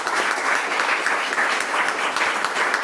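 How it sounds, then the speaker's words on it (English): Dense, steady applause from an audience at a CYA Founder's Day celebration honoring Nadia, loud and sustained without a break. "I think Nadia should be applauded for everything she's done"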